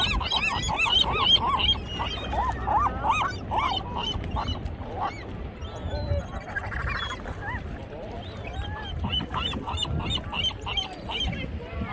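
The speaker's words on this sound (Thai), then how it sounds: "นกเป็ดน้ำนะคะ" Waterfowl calling continuously at a feeding spot, with many overlapping honks and quacks from a flock nearby, dense and steady throughout, with faint voices underneath.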